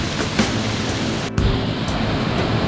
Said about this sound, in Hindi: तो यहाँ से ये पानी आता है, जंगल से पानी आता है।